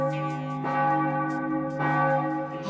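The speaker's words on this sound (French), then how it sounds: "les cloches de Notre-Dame sonnent toujours à l'heure pile" The church bells of Notre-Dame in Paris ring in a cartoon, two loud sustained strikes with long humming tones that overlap and decay, alone without talk.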